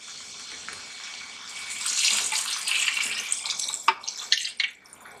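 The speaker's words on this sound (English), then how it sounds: "And then we're going to add 2 quarts of water." Water pours steadily into a soup pot, the splashing growing louder and fuller partway through, with a few clinks near the end.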